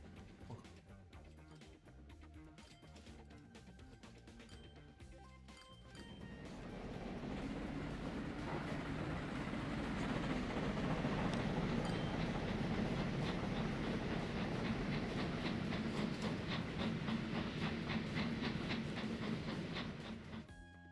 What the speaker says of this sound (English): Lots of very heavy trains.